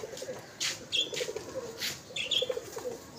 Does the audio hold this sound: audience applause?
no